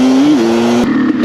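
A Honda CR500 two-stroke motorcycle with a titanium double exhaust, its engine loud and close, holding a steady droning note that rises briefly before cutting off abruptly.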